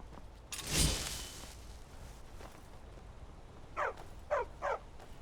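A dog in Skyrim gives three short, yelping barks in quick succession near the end, after an earlier soft whoosh, fairly faint against quiet background.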